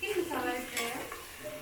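Chicken biryani being stirred in a pot, a close, moderate scraping and sizzling that swells and fades in short strokes, with no voices over it.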